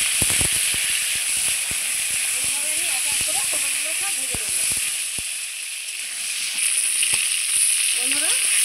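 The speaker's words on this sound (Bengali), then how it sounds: "পটলগুলো ভেজে নেব" Pointed gourd (potol) sizzles steadily in hot mustard oil with a little salt in a kadai, a continuous dense frying hiss with scattered crackles and faint voice-like tones surfacing briefly.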